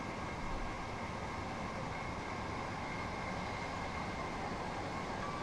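Steady locomotive rumble from Train Sim World 2020 on the East Coastway route, a continuous broadband drone with a faint hum, even in loudness throughout and no talk.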